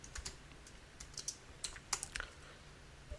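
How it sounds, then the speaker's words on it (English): Computer keyboard keys pressed in short, irregular taps, a dozen or so quiet clicks close by with brief gaps, nothing else audible. "Whoops, hit the key."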